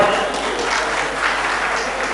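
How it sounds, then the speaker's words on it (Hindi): Applause from the hall at an All India Jain Doctors Meet greeting a 77-year-old guest, a broad, steady clatter of many hands, fairly loud and even, with some murmur mixed in. "आप इनको देखिए और जोरदार तालियों से इनका समर्थन।"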